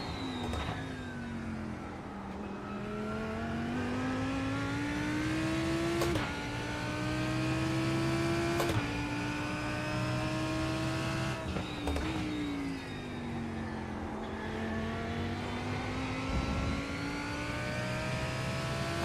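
McLaren race car engine in the iRacing simulator, a steady loud drone whose pitch climbs and falls with the revs, with a few sharp gear-change breaks along the way and no voices.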